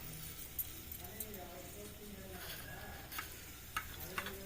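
Cumin and mustard seeds sizzle and crackle in hot oil, a steady close hiss for a tempering with scattered sharp pops and light clinks of a spoon against the pan throughout.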